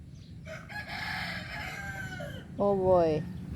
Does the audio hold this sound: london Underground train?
no